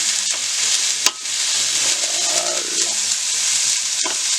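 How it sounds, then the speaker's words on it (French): Onions, shallot, parsley and crushed garlic sizzle and fry in a casserole, a steady loud hiss throughout with a single sharp clink of utensil against the pot partway through and faint stirring scrapes. "je vais verser ma mixture. Voilà, c'est-à-dire tous les oignons, l'échalote, mon persil, l'ail écrasé"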